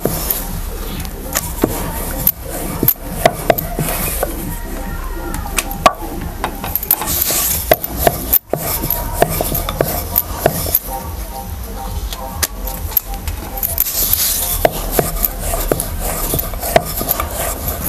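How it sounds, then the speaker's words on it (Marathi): Wheat-flour khakhra dough being rolled out with a rolling pin, a steady run of close rubbing and scraping strokes with small knocks, with some faint speech in the background. "मग आता आपण एवढं लाटून घेतलेले आहे."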